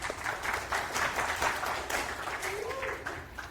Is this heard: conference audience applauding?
yes